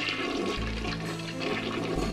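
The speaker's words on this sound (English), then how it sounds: "I gotta flush the toilet." A toilet flushes in the video game Unpacking, a loud, close rush of swirling water that holds steady for the whole stretch with no talking.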